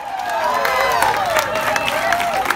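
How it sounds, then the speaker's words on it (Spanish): A concert crowd at a tribute to women rock and blues musicians claps and cheers loudly, with a sustained roar and a bright held note or feedback tone sliding above it. "Un aplauso para ella."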